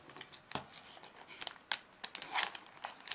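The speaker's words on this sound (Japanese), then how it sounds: "カードを開封しちゃいましょうね。" A trading card pack wrapper is torn open close by, giving scattered crinkly rips and plastic crackles in short bursts over a quiet background.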